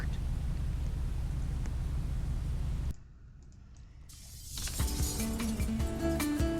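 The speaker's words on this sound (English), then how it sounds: "Once again, we broke the glass." Glass breaking in a PlayStation ragdoll physics game as a character crashes through a pane: a sustained loud crashing wash, a brief near-quiet gap, then bright scattered tinkling and shattering fragments.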